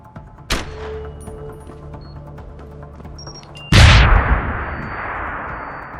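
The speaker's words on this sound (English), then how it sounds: "Fucking gunshots!" A sharp gunshot cracks early in Deus Ex: Human Revolution, then a louder, booming shot with a long ringing decay follows a few seconds later, against a low game background hum.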